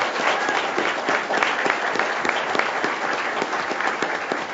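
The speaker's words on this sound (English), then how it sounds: "Let's give her a round of applause" A round of applause at a school board meeting honours a student, with brisk, dense clapping from the room that holds steady throughout.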